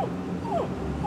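A dog at a campground gives short, high whimpers and whines, faint and close against steady outdoor background noise.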